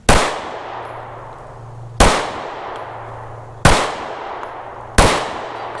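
Four loud, sharp gunshots from an ADE Spike pistol at a shooting range, evenly spaced about one and a half seconds apart, each ringing out into a decaying echo with no voices.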